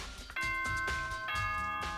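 A two-tone ding-dong doorbell chime from the video game Danganronpa Trigger Happy Havoc rings out clearly over game background music, with a second chime following.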